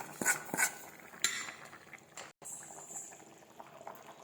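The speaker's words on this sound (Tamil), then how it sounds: "இப்போ குழம்பு நல்லா கொதிச்சிருச்சு" A pot of country chicken kuzhambu boiling, with close bubbling and liquid churning interrupted by a few sharp clinks of a utensil against the pot and a brief dropout midway.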